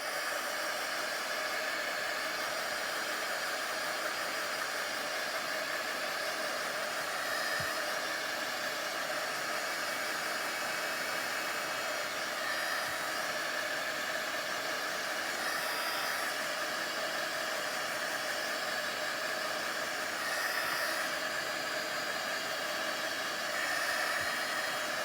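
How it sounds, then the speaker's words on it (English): A heat gun blows constantly in a steady, fairly faint hissing roar of hot air, unchanging for about twenty-five seconds, alone with no talk. "I'm going to hit that with the heat gun real quick."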